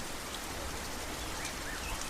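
Heavy rain pours down steadily during a storm, a dense, even hiss of drops drumming on surfaces with no voices over it.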